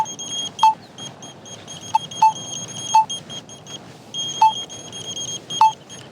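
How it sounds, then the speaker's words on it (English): A handheld RFID gun gives six short, sharp electronic beeps at irregular intervals as it scans beehives in the field, over faint background noise. "This time, why don't we use the RFID gun?"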